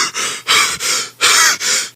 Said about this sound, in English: causing him to gasp for much more breath of air